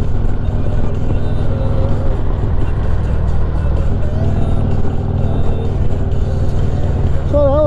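Car driving on a short ride through town to a hospital, a loud, steady engine and road rumble heard from inside the cabin throughout, with a brief rising beeping tone near the end.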